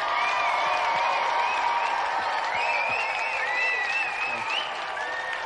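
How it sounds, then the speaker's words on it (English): Studio audience applause at a televised javelin-throwing game show, a dense, steady clapping that holds loudly for the full stretch with light cheering mixed in. "Round of applause for Simon."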